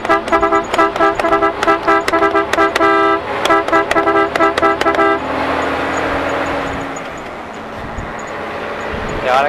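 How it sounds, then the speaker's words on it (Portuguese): A loud vehicle horn honks in rapid repeated bursts for about five seconds, street-vendor style, then gives way to a rumbling engine and road noise. "A buzina."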